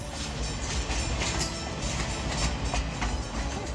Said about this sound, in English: And look, here comes the train now.